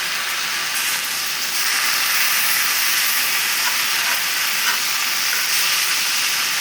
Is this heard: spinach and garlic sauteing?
yes